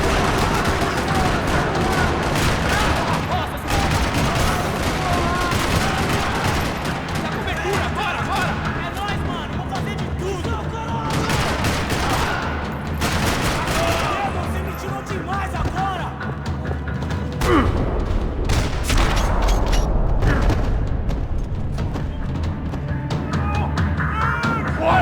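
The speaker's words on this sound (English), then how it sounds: "Another parking lot rattling with gunfire." Gunfire rattles through a parking lot in the Max Payne 3 video game, dense bursts of shots and impacts running nearly continuously over a loud, busy game soundscape with music and effects.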